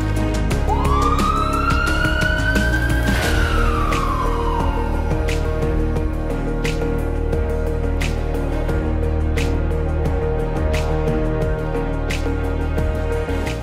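An ambulance siren wails loudly close by, sweeping up and down in pitch early on before fading, over steady traffic rumble with sharp intermittent clicks.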